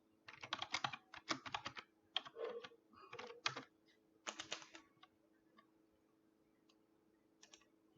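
Typing on a computer keyboard while entering login details, heard as quick bursts of close, crisp key clicks in the first five seconds, then a few sparse taps before going quiet.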